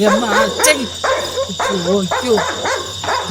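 Several dogs bark and yip over and over, loud and close, as part of a staged Tamil drama, and the barking overlaps now and then.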